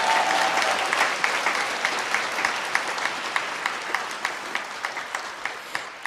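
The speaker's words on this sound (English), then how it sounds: "You know the sound of those claps?" Audience at a stand-up comedy show breaks into loud, dense clapping that gradually thins into scattered individual claps near the end.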